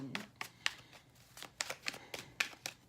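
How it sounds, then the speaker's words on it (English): Tarot cards shuffled up close: a series of quick, crisp riffles and soft slaps in uneven bursts, fairly quiet, with no voices. "I've been shuffling, doing a little more shuffling on camera."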